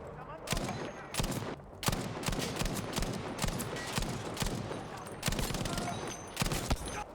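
Rapid bursts of Battlefield V gunfire crackle steadily throughout, with sharp volleys and a few heavier blasts, loud and close.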